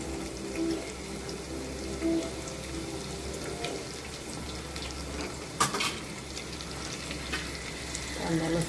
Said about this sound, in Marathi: टाकायचा आणि चांगलं फ्राय होऊन द्यायचा कांदा.